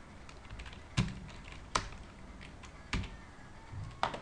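Someone types on a new computer keyboard, scattered soft keystrokes punctuated by a few sharper, louder clacks at irregular intervals, close and otherwise quiet.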